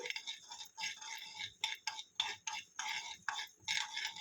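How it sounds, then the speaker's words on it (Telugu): Mustard and fenugreek seeds dry-roasting in a kadai without oil, a soft rattling and scraping of seeds being stirred in repeated short strokes, fairly quiet and close, with no talking. "ఒక కడాయి పెట్టుకొని నూనె లేకుండా ఆవాలు మెంతులు వేయించుకొని పౌడర్ లాగా చేసుకోవాలి"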